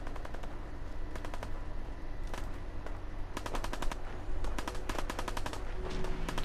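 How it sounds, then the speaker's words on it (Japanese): Rapid bursts of automatic gunfire and single shots in the video game Fallout 4, repeated clusters of sharp cracks over a steady background rumble, fairly close, with no talking. "銃声がするぞ。"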